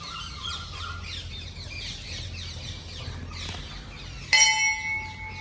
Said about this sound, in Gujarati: મસ્ત લીલોતરી અને પોપટ ના બધા કેવો મસ્ત અવાજ આવે છે.